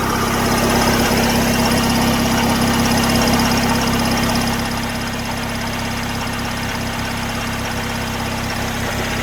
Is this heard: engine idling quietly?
yes